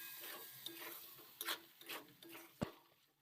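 Potatoes and pointed gourd being stirred together with a ground nut paste in a pan, giving soft scraping strokes and a few sharp knocks of the spoon against the vessel, fairly quiet with no voices.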